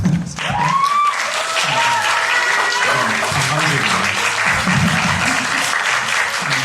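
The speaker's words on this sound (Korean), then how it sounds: "꼭 다시 강의를 부탁드리면서 박수 한번." Audience applause fills a lecture hall at the close of a special lecture on songwriting, a steady wash of many hands clapping at a constant level for several seconds, with faint voices mixed in.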